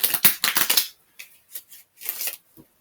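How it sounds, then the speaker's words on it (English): Tarot cards being shuffled by hand: a rapid burst of dense riffling flutters, then a few softer separate card slaps and a final short riffle, close and alone with no talking. "One more shuffle this way."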